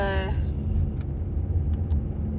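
Low, steady engine rumble of a car creeping through slow traffic, heard from inside the cabin, with a short tonal whine at the start and faint clicks scattered through it.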